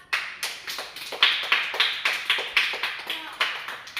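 Steady, evenly spaced hand claps from a child during a Ramayana role-playing game, about a dozen crisp near claps in a regular rhythm with faint voices behind.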